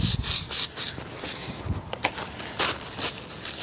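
Trailer brake parts are scrubbed clean with a brush in quick, uneven bursts of rough rubbing and scraping, close and fairly loud, with short pauses between strokes.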